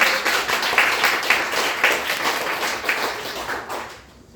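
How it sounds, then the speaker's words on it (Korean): A Sunday worship congregation claps in encouragement, a full burst of many hands that holds steady, then thins and fades out at the end. "우리 격려의 박수 한번 했으면 좋겠습니다"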